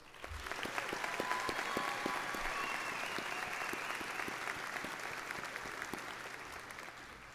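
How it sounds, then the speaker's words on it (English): Steady applause from a crowd at a college fall graduation ceremony, a broad even wash of clapping that swells early and tapers slightly, heard at a distance and fairly faint. "Let's give a final round of applause to all of our special graduates."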